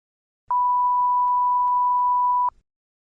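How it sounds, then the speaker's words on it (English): A single steady electronic test beep from a TOEFL iBT speaking practice test, a pure tone lasting about two seconds and heard alone, clear and constant. "You may begin to prepare your response after the beep."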